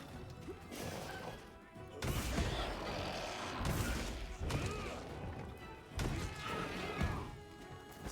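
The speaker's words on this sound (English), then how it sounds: "Flashbang." A flashbang goes off in the video game Monster Hunter Wilds amid loud crashing, thudding combat bursts that come in repeated waves, with some faint voice underneath.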